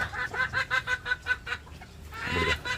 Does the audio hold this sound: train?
no